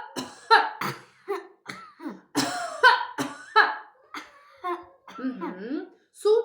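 A child imitates coughing during a speech therapy exercise after surgery for rhinolalia, giving a string of short, sharp fake coughs spaced about half a second apart, with an adult voice speaking between them.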